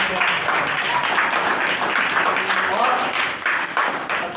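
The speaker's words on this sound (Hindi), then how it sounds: "तालियां बजा दें।" An audience at an Urdu poetry recital (mushaira) held by a welfare organization in Rehri Goth claps steadily throughout, a dense, fairly loud wash of hand claps with a voice speaking faintly underneath.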